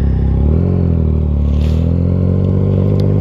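A Yamaha XSR900 motorcycle engine, still a little cold, runs close and loud with a strong steady drone whose pitch climbs slightly as it revs.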